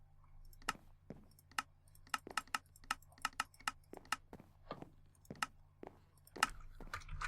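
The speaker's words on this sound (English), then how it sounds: "I'm typing real slow tonight." Slow, uneven typing on a computer keyboard during a Minecraft session, with sharp individual key clicks coming in loose bursts and pauses against a low steady hum.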